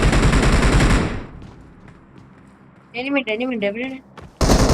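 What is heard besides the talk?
machine gun fire in BGMI video game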